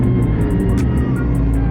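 Honda CBR600RR (2024) ridden at speed on the German Autobahn, a steady loud roar of engine and wind rushing past the rider with no break.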